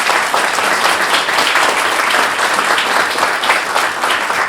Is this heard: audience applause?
yes